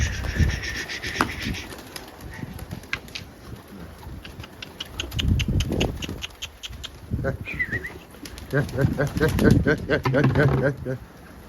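Pigeons coo in soft, repeated bursts at a coop, with wings flapping and a voice murmuring nearby over steady outdoor background noise.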